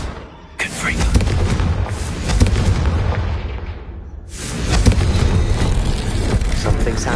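A Confringo fire spell blasting in the Hogwarts Legacy video game, a loud explosive boom with rumbling bursts that fill the clip, broken by a brief lull before another heavy blast.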